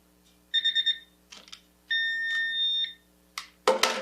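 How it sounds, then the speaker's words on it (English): A timer alarm goes off beside an iPhone 13 under a durability test: a quick cluster of bright electronic beeps, then a sustained chiming tone, followed by short rustling clatters. "timer's almost up"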